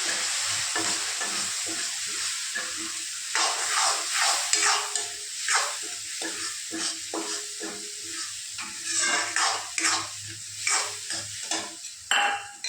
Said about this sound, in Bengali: এই দই দিয়ে মশলার পেস্টটা আমি এখানে ঢেলে দিলাম। এখন ভালো করে নাড়াচাড়া করে দেবো।